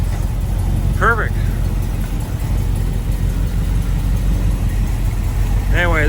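A 1946 Ford street rod coupe idles close by with a steady, loud low rumble, and two brief voices or chirps rise over it.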